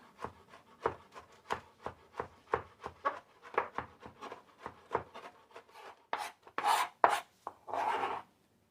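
A knife rough-chops fresh home-grown rosemary on a board in a series of quick, close, crisp taps, faster and more irregular near the end, with a few brushing scrapes as the leaves are gathered.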